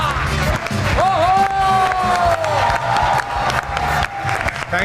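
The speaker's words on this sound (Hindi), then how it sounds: "इतनी तालियां तो मेरे लिए भी नहीं कभी बजी" A studio audience on a talk show breaks into loud, sustained applause and cheering, dense clapping with whoops rising over it, while a voice sings out a long held tone across the middle.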